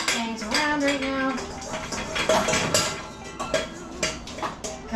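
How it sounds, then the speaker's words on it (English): Metal bowls, utensils and kitchenware clanging while cake icing is being made, a string of irregular ringing clinks and knocks close by, some louder strikes scattered among lighter taps. "Yeah, I'm clanging things around right now"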